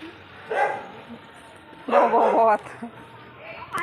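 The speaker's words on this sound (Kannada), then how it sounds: "ಅಲ್ಲೊಂದು ನಾಯಿ" A dog barks outdoors near a road, in two short bursts of a few yelping barks at moderate distance. Voices talk around the barks.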